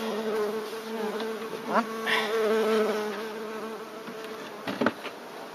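Package honeybees buzz steadily up close while being hived on a roof, a continuous droning hum with a few individual bees sweeping past louder.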